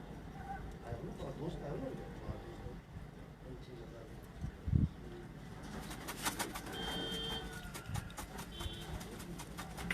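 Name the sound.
banded pigeons cooing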